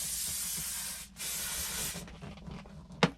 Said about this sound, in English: Now I'm going to use the freezing spray.